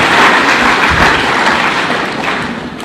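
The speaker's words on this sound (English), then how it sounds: "let's give a round of applause for all our leaders who have spoken" Audience applause for leaders who have spoken at an African Union-related gathering, a steady broadband patter of many clapping hands that holds for about three seconds and slowly fades.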